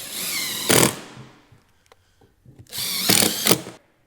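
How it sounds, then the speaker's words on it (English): A power drill driving screws into a hammer-formed metal firewall panel, two loud, close whirring bursts separated by a short pause with faint handling clicks. "let me just finish screwing this together"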